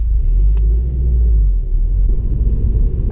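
A 2016 Subaru WRX STI drives along, its engine a deep, steady rumble heard from inside the cabin, loud and continuous with slight swells in tone.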